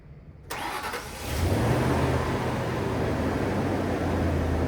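A jump-started engine cranks briefly, then catches and settles into a steady, rumbling idle close by.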